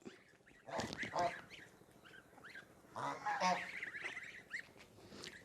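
A duck gives a run of harsh, nasal quacks in two close, loud bursts about two seconds apart, with scattered fainter calls between them and no talking.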